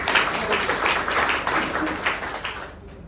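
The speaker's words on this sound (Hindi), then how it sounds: "सबसे पहले मैं अपनी कंपनी के लिए एक जोरदार तालियों से स्वागत करता हूं।" Clapping from the audience at a company sales meeting in welcome, a dense burst of hand claps that rolls on steadily and then fades out, with no talk over it.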